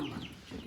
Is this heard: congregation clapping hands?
no